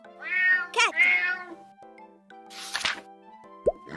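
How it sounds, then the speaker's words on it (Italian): A cat meows twice in quick succession, close and clear, followed by a soft breathy sound and a small plop. "Cat!"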